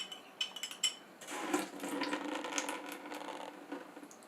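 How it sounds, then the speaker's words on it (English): A spoon stirring during home coffee roasting, with a few light metallic taps and clinks followed by a faint, continuous scraping and rustling swirl, close but quiet. "So this, you give it a little stir."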